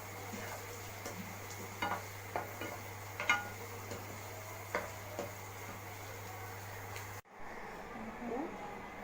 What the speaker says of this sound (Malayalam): ഇനി അടുത്തത് മസാലയ്ക്കുള്ള സവാള വറുക്കാം